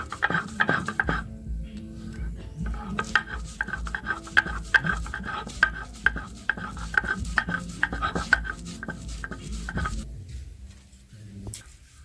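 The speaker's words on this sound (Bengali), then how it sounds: "এই যে এইভাবে ডালটা বেটে নিচ্ছি প্রথমে" Soaked chana dal being ground into a paste, rhythmic scraping and knocking strokes repeating steadily for several seconds, close and fairly loud with no talk.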